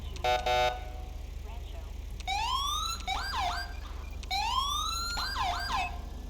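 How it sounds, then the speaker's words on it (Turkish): Police car sirens from the GTA V LSPDFR game sweep up and down in repeated wailing cycles over a steady low engine hum, opened by a brief electronic chirp burst. "Şöyle bakın sirenlerimize bakalım."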